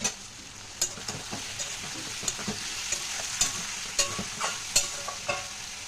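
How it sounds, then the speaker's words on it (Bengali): Snake gourd and potatoes fry in a pan, a soft steady sizzle punctuated by repeated sharp spatula scrapes and clinks against the pan at irregular intervals, close and without speech. "এদিকে চিচিঙ্গে আর আলুটাও বেশ ভাজা হয়ে গেছে দেখো"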